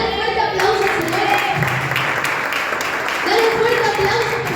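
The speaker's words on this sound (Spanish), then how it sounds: "Dale un fuerte aplauso al Señor." A church congregation applauds in a continuous patter of clapping while a voice keeps talking loudly over it.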